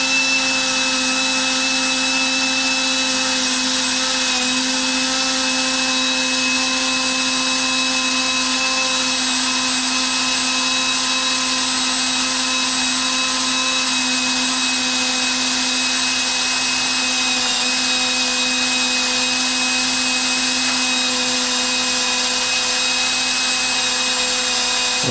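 An electric drill runs steadily, winding vinyl weaving strap onto a spool while restringing a Brown Jordan Tami-Ami chair; its motor whine holds one even pitch for the whole stretch, with no voices.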